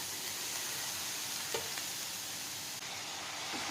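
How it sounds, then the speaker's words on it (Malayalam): Arakeera leaves drop into a pan of hot onions and fry with a constant, loud, close sizzle and a couple of brief stirring scrapes. "സവാളയിലേക്ക് നമ്മളുടെ ഇല ഇട്ട് കൊടുക്കാം"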